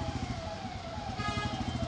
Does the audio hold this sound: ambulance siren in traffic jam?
yes